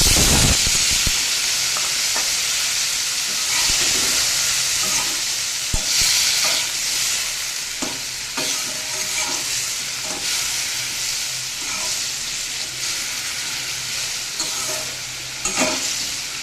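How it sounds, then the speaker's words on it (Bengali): Elephant foot yam frying in a pan of oil with a loud, continuous close sizzle and occasional stirring knocks and scrapes, no voices. "ওলটা কিন্তু বেশ ভালো করে ভাজা হয়ে গিয়েছে"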